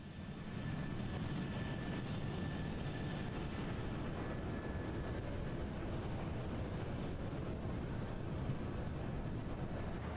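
Steady engine drone of a Transavia Boeing 737-800 cockpit in a flight simulator game, flying between Rome and Paris Orly: a continuous low, even rumble with faint whine, moderately quiet and unchanging, no voices.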